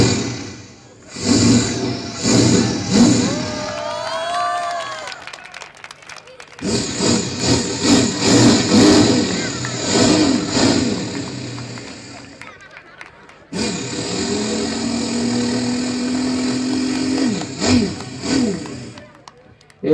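A voice imitates a revving motorbike in three sustained bursts, rough engine-like drones rising and falling with brief pauses between them.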